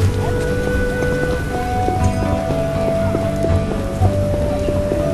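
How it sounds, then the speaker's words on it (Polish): Heavy rain pours in The Witcher video game, a dense, steady hiss of falling water that fills the whole scene without pause, with faint tonal ambience running underneath. "Pada deszczyk, pada, pada sobie równo. Ale leje."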